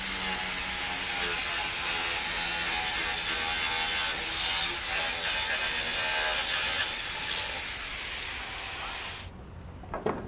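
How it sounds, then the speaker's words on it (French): A hand saw cuts through a steel double-wire fence panel in a steady run of rapid back-and-forth rasping strokes, close and fairly quiet, before stopping near the end. "prends la scie et c'est parti."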